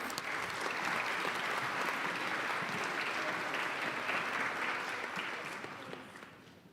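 Sustained applause fills a high school awards day ceremony for student athletes, a dense, even roar of many clapping hands at a distance that holds steady and then softens toward the end.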